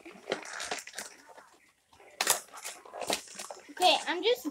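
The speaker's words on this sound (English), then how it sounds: "I'm just ripping this box." Cardboard tears and crunches in bursts of ripping and crinkling, close by, with a voice talking in the pauses.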